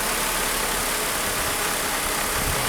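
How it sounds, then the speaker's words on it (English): A Mercedes M104 engine idles smoothly and steadily with no shake, a continuous even hum throughout, heard close and alone without talk. "very smooth, no shake, no vibrations when it runs like this"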